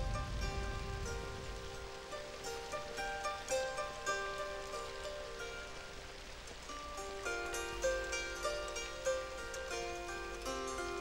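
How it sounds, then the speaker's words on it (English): Monsoon rain falls steadily over a Borneo rainforest, a dense, even hiss of drops with soft rhythmic patters, while sustained musical tones play over it throughout. "In October, the monsoons arrive in Borneo. Then it never stops raining"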